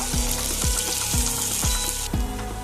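Onions frying in a pan until golden brown for a Bengali quail bhuna, a steady broadband sizzle under a repeating row of soft, evenly spaced low knocks, about two a second, with no voices.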